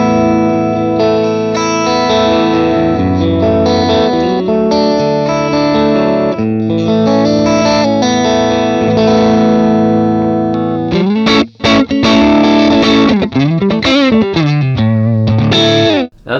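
Electric guitar played through a Fractal Audio Axe-Fx II XL+ amp and cabinet simulation gives a distorted, chorus-tinged tone: sustained chords and single notes ring out, then a busier rhythmic passage with quick muted stops, loud and close.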